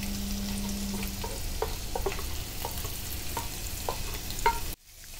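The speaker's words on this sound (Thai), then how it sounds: "ทีนี้พอกระเทียมหอมแล้วเราก็จะมาใส ่ตัวหมูสับนะครับผม ใส่ลงไปผัดด้วยกันเลยครับ" Minced pork and garlic stir-fry in a pan for a Thai zucchini-and-egg dish, with loud, steady sizzling and repeated scraping stirs, until the sound cuts off abruptly near the end.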